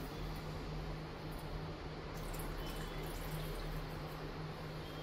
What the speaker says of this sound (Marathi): आता सेम ग्लास भरून मी पाणी यामध्ये ऍड करणार आहे.